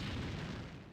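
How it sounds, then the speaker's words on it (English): A muffled explosion in the stealth game Thief Gold, a single brief, fairly faint boom that fades out fast with no big blast. "I'm sort of disappointed by that explosion"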